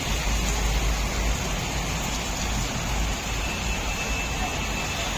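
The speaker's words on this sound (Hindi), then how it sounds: "इतनी तेज बारिश होने लगी" Heavy rain pours outside a home, a steady, loud hiss of downpour that fills the whole stretch without pause and with no voices.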